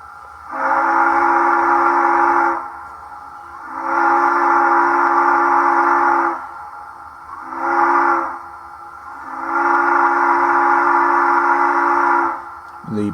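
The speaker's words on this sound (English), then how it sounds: "the pre-recorded grade crossing sequence" An HO scale Union Pacific streamlined model locomotive's sound decoder blows a grade crossing whistle sequence of four loud blasts, long, long, short, long, with brief gaps between them.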